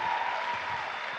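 A crowd at the Erasmus Generation Meeting opening ceremony in Seville applauds Ángel, giving a dense, continuous roar of clapping over a steady tone.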